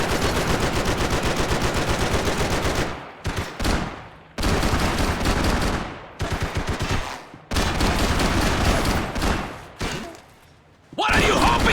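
Loud, sustained gunfire from Max Payne 3, rapid automatic bursts packed together, broken by a few short pauses and thuds, with shouting voices faintly mixed in.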